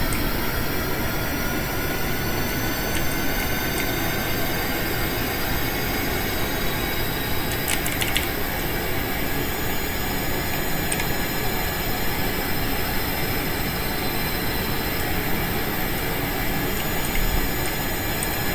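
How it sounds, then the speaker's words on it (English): Aircraft engines in the video game Kerbal Space Program give a steady, loud, broadband roar that holds unchanged for the whole stretch, with faint high whines and no speech. "Okay, we got the engines back."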